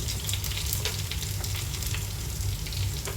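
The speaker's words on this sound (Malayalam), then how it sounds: "കറിവേപ്പിലൊക്കെ ഇട്ട് കൊടുക്കാം ഇതൊന്ന് വഴറ്റിയെടുക്കാം" Ginger, garlic and curry leaves sauté in a pan for chicken curry, giving a continuous, fairly quiet sizzle with faint crackles and occasional stirring ticks.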